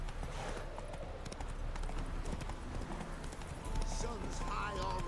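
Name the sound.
horse Roach galloping in The Witcher 3 video game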